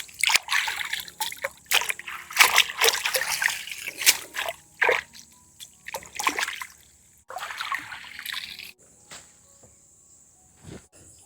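Harvested water spinach being washed in water outdoors, with bursts of splashing and trickling over a steady insect and cricket chorus, the sloshing loud and close, then fading to quiet with only faint dripping.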